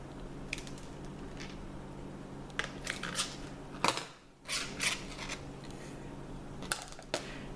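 Cutters snip through electrical wires during outlet wiring, giving a handful of short, crisp clicks spaced apart over quiet room tone, with one heavier crunch partway through.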